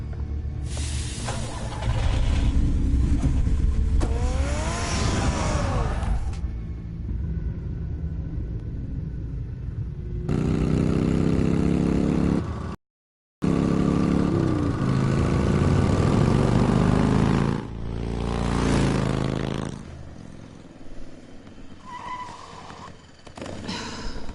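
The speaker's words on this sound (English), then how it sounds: "Get the car ready, Alfred." A car engine rumbles and revs as the car pulls away in Batman: The Telltale Series, a loud sustained drone with a brief dropout midway, fading toward the end under soft game sounds.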